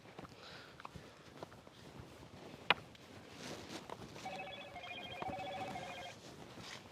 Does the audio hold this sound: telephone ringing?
yes